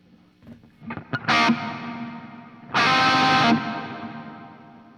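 Electric guitar played through the middle setting of an effects pedal, a few quick picked notes building to two bright, sustained strummed chords that ring with a shimmering, washy tail, loud and close with no speech.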